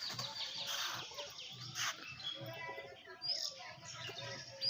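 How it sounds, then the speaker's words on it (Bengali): Wild pigeons flocking nearby, faint chirps and calls with light fluttering, scattered bursts over quiet outdoor background with soft voice-like sounds. "কত জঙ্গলি পায়রা এদিকে,"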